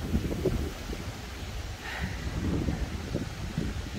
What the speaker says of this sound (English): So it is windy.